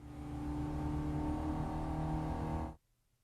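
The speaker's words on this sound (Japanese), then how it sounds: "That sounds like a roar of an engine." An engine roar in the Disney Twisted Wonderland video game, heard on a school campus: a sustained, loud, humming drone that holds steady for almost three seconds and then cuts off abruptly into silence.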